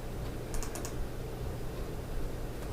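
Quick clicks of typing on a computer keyboard, a short burst of keystrokes near the start over a steady low hum, with no talking.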